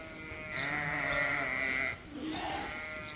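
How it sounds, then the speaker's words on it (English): Lambs and ewes bleat on a sheep farm, two drawn-out wavering calls heard at moderate distance, one long and one shorter, over a low background of farm noise. "So you can see the lambs in their creep areas from up top here."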